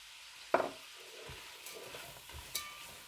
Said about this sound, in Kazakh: Барлығын бірге қуырамыз.